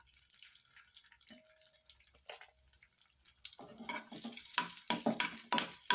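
Raisins dropped into hot ghee in a pan, for rava kesari: a quiet start with faint clinks, then a soft crackling sizzle that builds and grows louder over the last few seconds.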